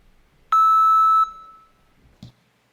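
A driver drowsiness camera alert gives a single loud, clean electronic beep lasting under a second, followed by a brief soft knock and then silence.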